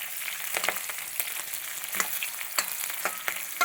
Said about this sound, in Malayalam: ഇതൊന്ന് ഇളക്കി കൊടുക്കുന്നു.